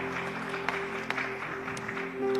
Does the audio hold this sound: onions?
no